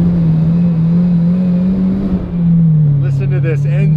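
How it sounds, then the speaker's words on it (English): A straight-piped Lamborghini Aventador Roadster V12 pulls hard under load, a loud, steady low drone holding throughout with a slight dip and shift in pitch near the middle, as a voice talks over the later part. "Let's see what it sounds like under load."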